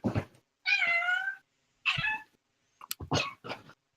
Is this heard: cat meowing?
yes